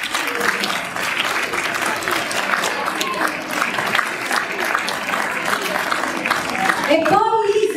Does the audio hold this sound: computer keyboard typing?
no